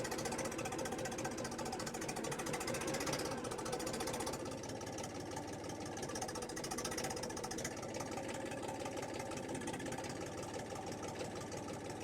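A cold, not yet warmed-up Kentavr 244SX mini tractor engine runs at a steady low idle with an even mechanical knock, moderately quiet and continuous throughout, no voices.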